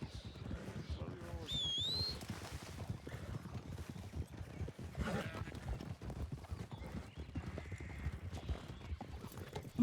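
Horse hooves clip-clop steadily in a Red Dead roleplay game, with a whinny near the start and a person talking faintly over the rhythmic trotting.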